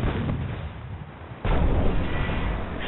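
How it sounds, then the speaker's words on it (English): Scorpion units open fire in a real-time strategy game, a dense, continuous rumble of booming artillery-like shots that swells louder partway through and keeps pounding without pause. "Scorpions are shooting different things."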